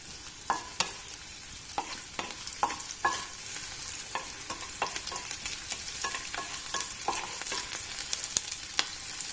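Four garlic cloves sauté in a pan for a Kerala chammanthi, giving a soft continuous sizzle over a run of sharp spoon-scraping and stirring knocks against the pan.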